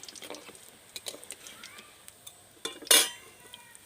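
Light clinks and scrapes of a utensil against a pan as fried semolina gulab jamun are lifted out of hot oil, ending in a louder metallic clatter and sizzle, close by.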